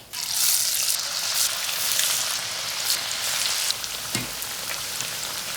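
Aloo cabbage fritters deep frying in a kadai of hot oil give a dense, continuous hiss and crackle, loud and close, with a brief low knock partway through.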